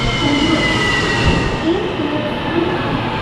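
A train at Kuala Lumpur's KL Sentral station on double-track rail gives a steady, close rumble of rolling wheels and carriages with faint squealing tones, continuous for the whole moment with no talking.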